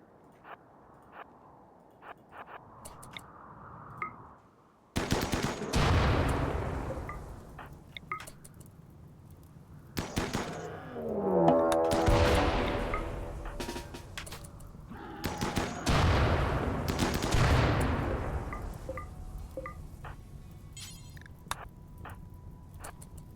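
Bursts of gunfire from hunting boomalopes in the video game RimWorld, coming in three loud volleys of rapid shots after a quiet stretch, with no talking.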